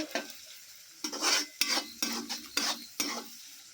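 Onion and ginger stir-fry for fried rice, with a soft sizzle broken by five or six brisk bursts of a spatula scraping and tossing in the pan, close, with no voices.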